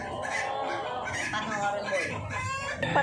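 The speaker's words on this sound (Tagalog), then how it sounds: "Sobrang ingay yung mga manok" Chickens cluck and squawk continuously, with a rooster-like call near the end, busy and close.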